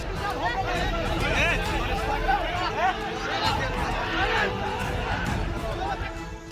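An angry crowd of villagers chasing a fleeing minister makes a dense, continuous roar of overlapping shouts and chatter, loud and steady throughout with no single voice standing out.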